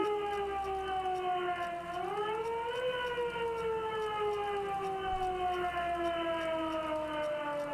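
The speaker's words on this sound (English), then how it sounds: "I can't hear you over the loud-ass siren." A wailing siren from the video game Disco Elysium sounds continuously and loudly, its pitch rising then slowly falling as the long steady tone drones on, with no talk over it.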